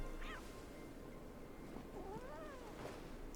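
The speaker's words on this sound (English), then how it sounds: "Kitty!" A cat in the video game Wuthering Waves gives a few faint, short meows over a low, steady game soundscape.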